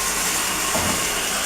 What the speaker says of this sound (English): let me turn the water on for a second.